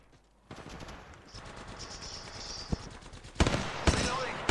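Enemy automatic gunfire in Apex Legends Mobile crackles in rapid bursts at moderate distance, growing louder and sharper toward the end with a few heavier single shots.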